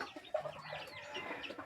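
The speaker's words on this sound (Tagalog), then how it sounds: "Manok natin na nasa battery cage guys." A backyard hen confined in a battery cage gives a few soft, quick clucks close by, quiet and brief against light background noise.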